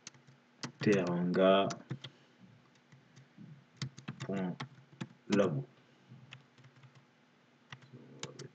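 Scattered light key clicks from a computer keyboard as a domain name is entered while joining a PC to an Active Directory domain, heard between and under a man's speech.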